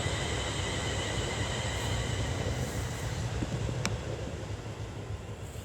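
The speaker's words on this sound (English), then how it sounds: "350-127 twin brother train off to Birmingham International from Rugeley Trent Valley." A Class 350 electric multiple unit train passes at a country park near the line, a steady broad rumble and rail hiss, moderately close and without speech.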